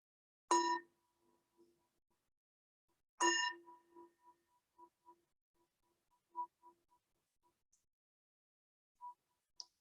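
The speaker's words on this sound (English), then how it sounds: "We'll let the bell invite us." A meditation bell is struck twice, a few seconds apart, each strike ringing out clearly and then fading into a soft, lingering hum in an otherwise quiet room.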